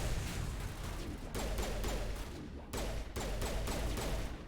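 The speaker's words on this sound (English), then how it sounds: "Let me just shoot this thing." Bursts of rapid gunfire from the video game Mass Effect, played on Insanity difficulty, come in several loud close volleys separated by brief gaps, with no talk over them.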